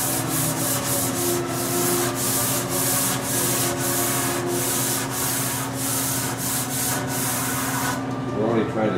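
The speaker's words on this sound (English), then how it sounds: "a quarter sheet of 320 here, and then sand with the grain" A sanding block with a quarter sheet of 320-grit paper rubs along the grain of a wooden antique-style dressing table, making rhythmic back-and-forth swishing strokes, close and steady, ending after about eight seconds.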